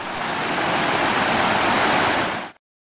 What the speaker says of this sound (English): the Iguazu Falls are, without hesitation, the most impressive and exquisite.